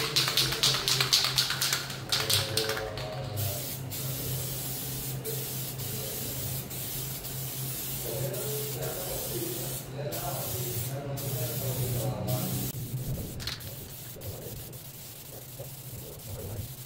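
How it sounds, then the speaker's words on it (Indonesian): An aerosol can of candytone spray paint hisses in long, steady bursts onto motorcycle parts up close, with short pauses, clicks and handling noises between passes. "Kita semprot tipis-tipis secara merata"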